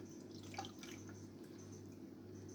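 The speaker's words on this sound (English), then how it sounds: "So I'm going to pour that back in." Homemade aloe vera and alcohol sanitizer poured back into its container: a faint, soft trickle with a few light drips, quiet and distant over a low background hum.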